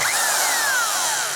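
A DeWalt USA Classic 1/2-inch heavy-duty spade handle drill runs in a brief, loud, close burst, its motor whine sliding steadily downward in pitch as it winds down.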